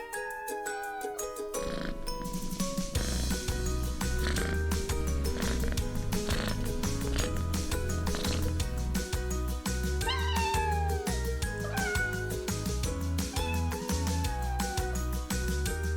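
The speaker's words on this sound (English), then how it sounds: "Next up, we have cats." A farm cat meows several times over a loud, rhythmic children's music track that dominates throughout.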